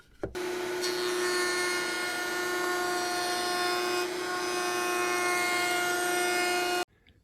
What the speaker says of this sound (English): On the bottom of the aprons, I'm going to cut a bead detail. What I'll be using is a beading bit in my router table.